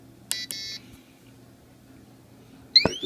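A B and O alarm system sounds two short, high electronic beeps just after arming, then a brief quiet, then a sharper chirp-like tone near the end, all close and clear.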